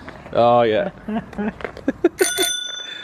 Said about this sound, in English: Show him the bell